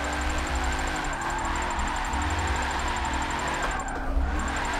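A drift car's engine in Forza 7 holds high revs in third gear, a steady, loud mechanical drone with a slight dip and surge near the end.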